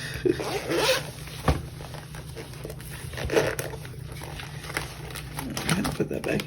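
A zipper opens a bank bag up close in several short rasping pulls, with crinkling handling noises between them as someone talks over it.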